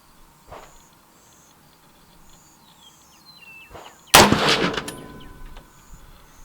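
A single rifle shot of Federal Match ammunition, fired freehand outdoors, cracks loudly and decays into a rolling echo, preceded by a couple of faint thumps amid chirping birds.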